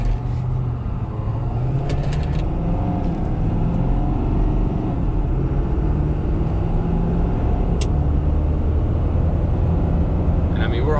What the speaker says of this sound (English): I'm gonna floor it right here.